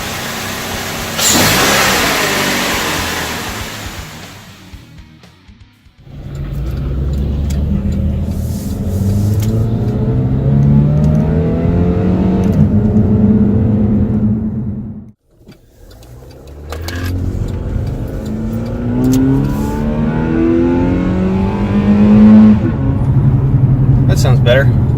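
A Chevrolet Malibu with a cold air intake revs its engine in several bursts during an exhaust sound test, each rev climbing and falling loudly with short pauses between, close to the car.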